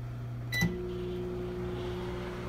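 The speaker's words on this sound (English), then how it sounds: "Let's get to the microwave." A microwave oven heating milk: a short pair of beeps from the keypad, then the low steady hum of the running oven, quiet and close.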